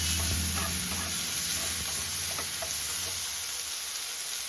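Ginger paste and mustard paste hiss in a spice tempering as they are stirred, a moderate steady sizzle with soft scraping that eases slightly toward the end, no talking.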